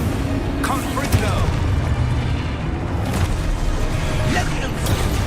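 A Confringo blasting spell explodes in Hogwarts Legacy, a loud booming burst amid a continuous rumble of combat, with a voice talking over the din.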